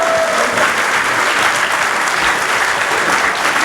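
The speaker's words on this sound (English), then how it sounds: "Can we have another round of applause?" Sustained, loud applause from an audience at a Founder's Day variety entertainment show, steady dense clapping filling the whole stretch with no talk over it.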